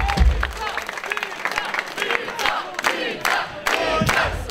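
An audience at a live punk show in a club claps and cheers loudly and steadily, the crowd noise carrying across the room with scattered shouts and whoops layered over the applause.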